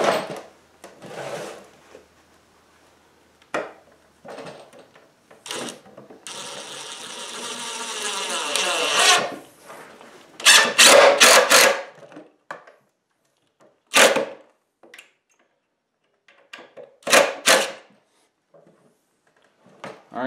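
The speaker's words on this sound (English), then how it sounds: "I'm going to be putting these screws in at an angle" A power driver sinks long screws at an angle into the roof sheathing of a chicken coop: several short whirring bursts, one sustained run of about three seconds, then more quick spurts separated by pauses.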